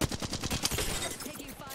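Rapid automatic gunfire in a video game shooter, a quick rhythmic burst of close, loud shots with game voice lines mixed underneath.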